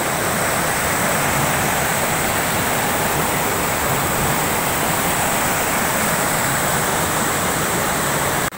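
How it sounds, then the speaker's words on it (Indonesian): Curug Cadas Ngateng, a waterfall on the Cidayeuh river, roars as a steady, loud, unbroken rush of falling water with no voices. "Inilah Curug Cadas Ngateng di Sungai Cidayo yang ajaib itu."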